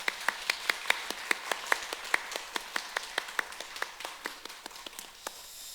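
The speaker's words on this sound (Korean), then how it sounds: "여러분 함께 박수로 한번 격려했으면 좋겠습니다" Church congregation clapping to encourage the choir, a steady rhythmic beat of unison claps, fairly quiet and even, with no talk over it.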